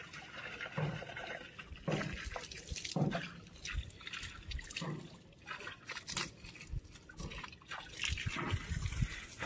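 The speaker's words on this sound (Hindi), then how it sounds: "फाइनली हमारा मोटर जो है चलने लगा गाइस" Water gushes and splashes continuously from a running pump outlet, a steady trickling flow with intermittent louder spurts and no talking.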